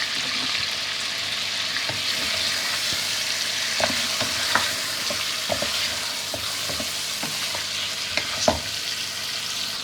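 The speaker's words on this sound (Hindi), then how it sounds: "अदरक लहसुन डालेंगे हम इसमें, इसको फ्राई करेंगे" Ginger and garlic sizzle steadily in a hot pan, with scattered clinks and scrapes from stirring.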